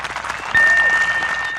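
An audience breaks into applause, a dense burst of crowd clapping that swells loud after a brief quieter lead-in and keeps going steadily.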